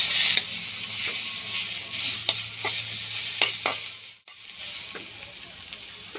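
Alu botboti, thin potato pieces, fry in a pan with a loud continuous sizzle punctuated by sharp, irregular spatula clicks and scrapes, the sizzle briefly dropping out before resuming; no one speaks.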